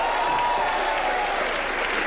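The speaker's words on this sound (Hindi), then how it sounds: "मिस्टर इंडिया के लिए तालियां बजाएं।" A live audience at a Bollywood event applauds, producing dense, loud, continuous clapping from a large crowd that holds steady throughout, with faint voices mixed in.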